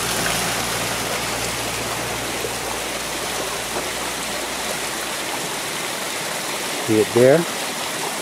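Water pours straight out and down in a steady continuous rush, loud and close throughout, with a person briefly speaking near the end.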